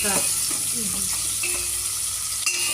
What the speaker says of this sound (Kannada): ಸುಮಾರು 1-2 ನಿಮಿಷ ಈರುಳ್ಳಿ ಚೆನ್ನಾಗಿ ಎಣ್ಣೆನಲ್ಲಿ ಫ್ರೈ ಆಗಿದೆ.